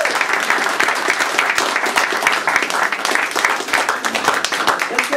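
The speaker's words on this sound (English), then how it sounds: "a round of applause for all of our guests" Audience applause for Toastmasters contest guests at a District 30 Southwest Division spring contest, dense steady clapping from a crowd filling the room, loud and continuous throughout.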